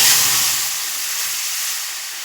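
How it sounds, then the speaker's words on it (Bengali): Five-spice seeds dropped into hot mustard oil in a wok give a loud, bright sizzle right up close. It bursts at once, then settles into a steady, slightly fading hiss with no talk. "সর্ষের তেল দিয়ে দিলাম কড়াতে, এবার 5 ফোড়নটা দিয়ে দিচ্ছি।"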